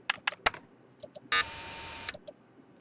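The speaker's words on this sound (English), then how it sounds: "You pecked away at the keyboard and called up the authorization screen again." Rapid pecking on a computer keyboard in a visual novel game, a few quick close clicks, then a steady electronic tone holding for under a second, followed by a couple more soft taps.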